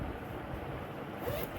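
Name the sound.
double zipper on first aid kit bag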